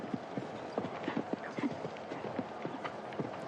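Horse hooves clip-clopping in a show jumping competition in Shanghai, a steady run of distinct, fairly faint footfalls heard alone without talk.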